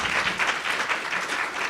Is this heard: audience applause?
yes